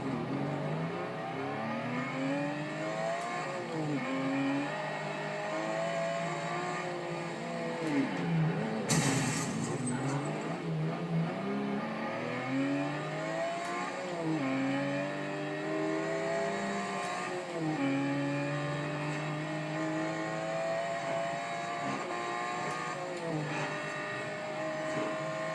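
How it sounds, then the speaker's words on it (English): A 2013 Aston Martin V12 Vantage S in the racing game Forza Horizon 2 revs hard through repeated rising gear pulls, its V12 engine climbing and dropping between shifts in a loud, continuous, close drone. "God, this car sounds so gorgeous."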